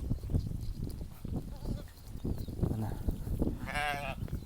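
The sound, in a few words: sheep bleating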